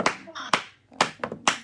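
Clapping in praise at a church gathering, four sharp claps in a steady rhythm, with voices calling out between them.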